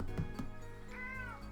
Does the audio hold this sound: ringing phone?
no